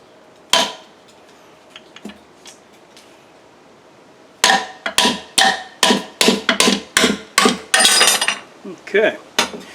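Hammer striking a socket to drive a stuck part out of a Borg Warner 1305/1339 Quadratrac transfer case, one sharp metallic hit, a pause, then a rapid series of about a dozen loud, ringing blows close by.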